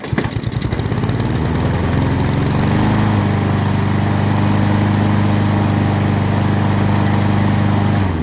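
A Honda/Husqvarna walk-behind lawn mower, freshly tuned up with a new air filter, fresh oil and a sharpened blade, starts and settles into a loud, steady, close engine drone with no talk.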